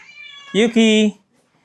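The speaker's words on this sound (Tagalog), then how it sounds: "Ang aking pusa na makulit." A cat meows loudly twice in close succession, a short rising cry followed by a longer drawn-out one, with faint background sound before and silence after.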